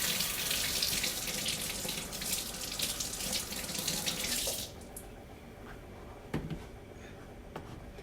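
Brussels sprouts washed under a running kitchen tap: a loud continuous gush of water for several seconds that cuts off abruptly, followed by quiet handling and a few faint knocks.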